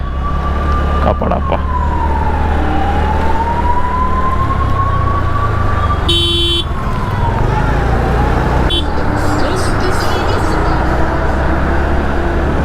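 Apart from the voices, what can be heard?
ambulance siren passing in traffic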